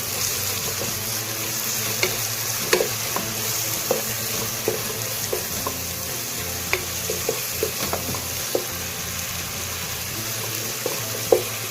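Thick curd being stirred into spiced masala rice in a pan, with steady soft sizzling under repeated light scraping clicks of a spoon, close and fairly quiet, no talking.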